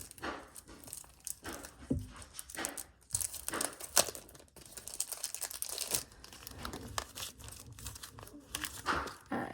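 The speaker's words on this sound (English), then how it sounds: "Let's sleeve our cards that we got." Trading cards being slid into plastic card sleeves, with close, soft crinkling and rustling of thin plastic in irregular bursts and handling noises throughout.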